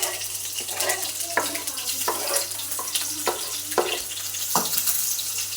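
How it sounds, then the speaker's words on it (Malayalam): Green chillies frying in hot oil crackle and hiss at close range for a Kerala puliyanchi, with a series of regular clanks and scrapes from stirring over a low background hum. "എണ്ണ ഒഴിച്ചെടുത്തു നമുക്ക് പച്ചമുളക് ഇടാം"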